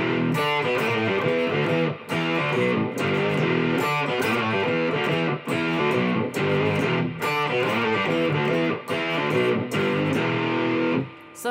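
A heavy, distorted electric guitar riff pitched an octave down by a whammy pedal chugs in a tight, driving rhythm with short regular breaks, loud and continuous with no talking.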